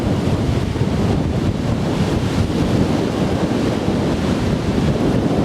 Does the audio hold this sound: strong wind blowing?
yes